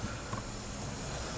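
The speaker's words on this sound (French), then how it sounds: "Quand on verse de l'eau froide sur une surface bien chaude" Cold water poured onto a hot steel sheet gives off a steady, close hiss of steam that stays even and fairly loud for the whole moment, with no talking.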